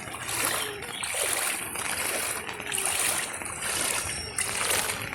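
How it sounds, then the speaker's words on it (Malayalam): Rhythmic sloshing and splashing of floodwater as a bicycle is pushed steadily through it in a flooded village, close and continuous, with surges every second or so. "സൈക്കിൾ ചവിട്ടാൻ ഒക്കത്തില്ലേ വെള്ളത്തിൽ കൂടെ തള്ളുവാനേ ഒക്കത്തുള്ളൂ"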